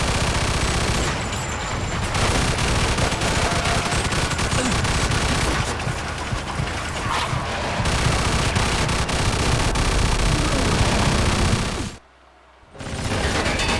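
Artillery and gunfire in a war video game, dense continuous explosions and shots roaring loudly for twelve seconds, cutting out briefly before resuming.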